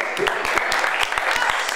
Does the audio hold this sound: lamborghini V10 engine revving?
no